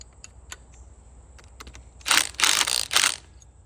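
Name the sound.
socket wrench ratchet tightening pins on quick disconnect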